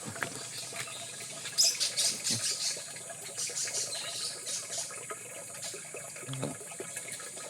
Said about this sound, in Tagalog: At dito rin po kami nag-iigib ng tubig.